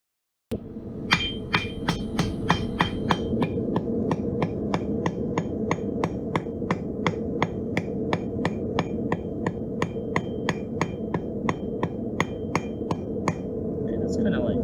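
Steady, rapid hammer blows on hot steel at an anvil, flattening metal while forging a leaf; loud, close, evenly spaced strikes continuing throughout with no talk.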